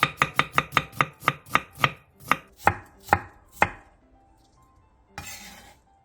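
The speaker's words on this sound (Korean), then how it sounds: "당근 조금을 잘게 다져주고 양파 4분의 1개는 얇게 채 썰어주세요." A knife chops carrot and onion on a board in about a dozen crisp, close strokes, quick and regular at first, then slowing and spacing out, followed by a brief soft scrape.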